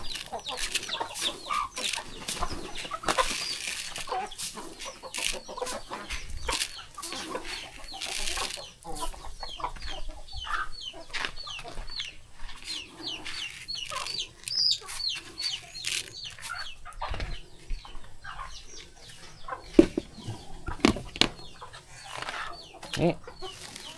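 Farm chickens clucking and chattering in a rural yard, a steady mix of soft clucks and occasional louder calls, with rustling and background noise throughout and someone speaking at times.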